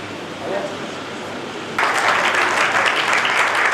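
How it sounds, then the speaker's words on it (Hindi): Loud applause from a crowd welcoming award recipients at a school teacher and student award ceremony, bursting in suddenly after a quiet stretch and holding steady to the end. "जोरदार तालियां बजा करके आप इनका वेलकम"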